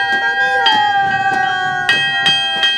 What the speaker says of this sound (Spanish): vamos a empezar este recorrido con un ritual muy especial, que es hacer sonar la campana